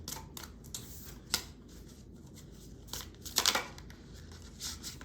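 Tarot cards are shuffled by hand in short, quiet bursts of papery riffling and slapping, with brief pauses between them and a few louder flicks.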